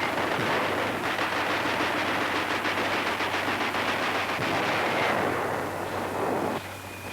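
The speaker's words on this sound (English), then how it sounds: "Rifles, machine guns, and bazookas do the job." Battlefield gunfire from rifles, machine guns and bazookas as a platoon clears out enemy snipers, heard as a dense, continuous crackle of rapid shots and heavy rumbling blasts, loud and steady throughout with no talk.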